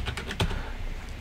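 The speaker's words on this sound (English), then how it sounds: "right here in this text field, you want to type this" A few quick keystrokes on a computer keyboard while entering a command into a Windows 10 text field, close and moderately soft, with one slightly louder tap near the middle.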